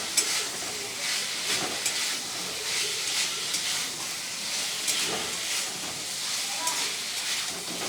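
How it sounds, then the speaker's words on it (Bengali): Fried elephant foot yam and spiced potatoes being stirred in a pan, a continuous sizzle with repeated scraping strokes of the spoon, fairly close. "এবার আমি ভেজে রাখা ওলগুলো দিয়ে দিচ্ছি। এবার ওলটা দিয়েও একটু ভালো করে নাড়িয়ে নিয়ে আমি জল দিয়ে দেবো।"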